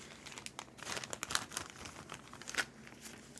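Twenty cardboard training markers from the board game Healthy Heart Hospital are shuffled face down on a table, making soft, continuous crinkly rustling and sliding with small irregular taps, close and quiet.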